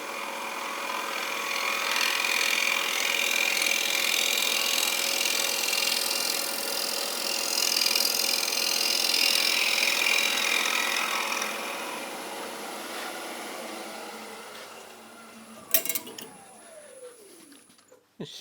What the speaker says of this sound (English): I'm going to go with my scraper. Into the middle, up and down gently.